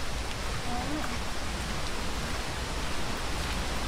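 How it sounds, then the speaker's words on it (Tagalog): A strong river current rushes in a steady, broad wash of water noise that fills the whole stretch without pause. "Ibig lakas ng agos ngayon oh"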